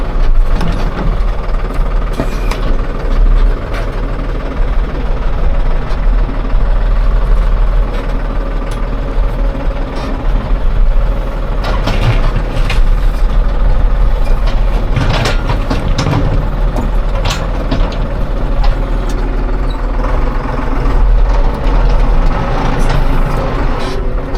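A farm tractor engine runs close by in a village setting, a heavy low diesel rumble with knocking, rattling bursts and uneven revving over the whole stretch.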